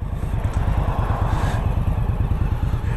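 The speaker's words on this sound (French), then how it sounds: "je passe la première pour voir si elle claque. Elle claque à l'oreille" A 2018 Indian Scout Bobber motorcycle engine idles with a steady low throb, and first gear engages with a clunk amid close mechanical clatter.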